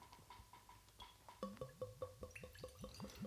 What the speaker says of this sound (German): Das erste Einschenken.